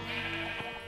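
A sheep in the video game Minecraft gives one short bleat, close and clear, lasting about a second with no talking.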